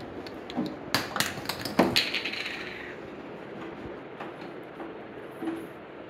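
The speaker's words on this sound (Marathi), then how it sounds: "आता हे याचे नट आहेत ते टाईट करून घेतो आहे." Nuts being tightened on the stairs of a children's slide during assembly: a cluster of sharp metallic clinks and taps close by in the first couple of seconds, followed by sparse quieter knocks against low room noise, with no talking.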